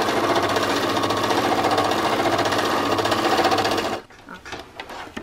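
A sewing machine stitches a flat felled seam on jeans, a loud rapid steady chatter of the needle running close for about four seconds before stopping abruptly, followed by a few faint handling clicks.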